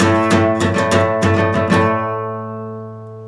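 Quick burst of seven or so rapid guitar strums on a single chord at full speed, then the chord rings out and fades, played solo and close without any voice.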